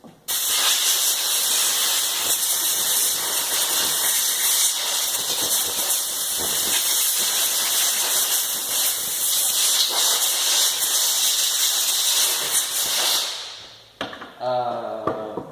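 Compressed air blasting out the cooling fins of a chainsaw during maintenance, with the recoil removed: a loud, steady, close hiss that runs for about thirteen seconds, then cuts off sharply into a few brief clicks and handling sounds.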